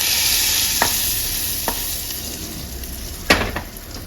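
Chili powder dropped into hot tadka oil in a chana palak pan, a loud steady sizzle broken by a few sharp spoon clinks against the pot.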